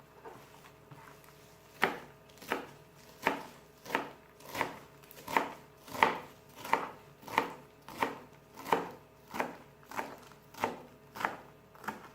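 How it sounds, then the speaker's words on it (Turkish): A knife chops an onion on a cutting board, steady rhythmic taps about one per second, close and fairly quiet. "Şimdi soğanımızı doğrayalım."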